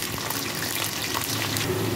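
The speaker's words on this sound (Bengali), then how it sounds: "এই তেলের উপরেই ভেজে নেব আলু ও গাজরটা" Potatoes and carrots sizzle in hot oil in a pan after bitter gourd was fried in the same oil, giving a steady close crackling hiss with no talk.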